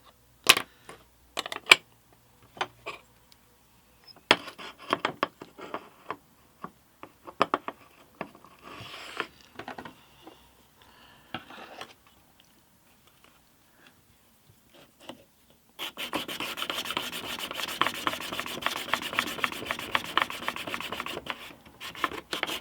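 A blade is sharpened on a 450 grit stone, with short scraping strokes at first, then a steady run of rapid, rhythmic rasping rubs near the end, all close and fairly quiet.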